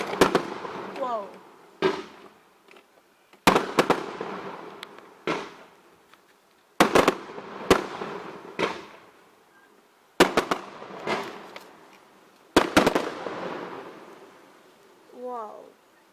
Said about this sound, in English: that's some decent fireworks for a change